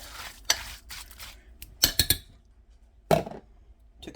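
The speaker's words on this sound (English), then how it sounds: "Alright, stir this up a little bit better." Metal spoon stirring onion, salt and pepper in a cooking pot, heard as a few distinct close clinks and scrapes spaced over a few seconds, with quiet gaps between them.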